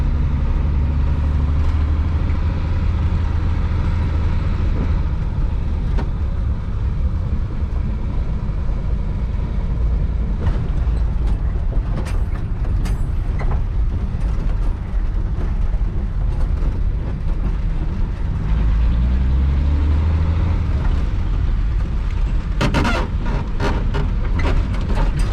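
A 1962 Willys Utility Wagon engine, run again after sitting 28 years, rumbles loud and close with rough low-end chugging and revving surges, continuous throughout.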